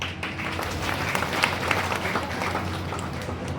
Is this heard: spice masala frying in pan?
no